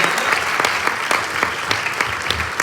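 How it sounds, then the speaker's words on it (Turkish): A crowd applauds at a Herbalife business gathering in Turkey, with dense, steady clapping and sharper individual claps standing out, sustained and fairly loud throughout. "Büyük bir alkış verelim mi?"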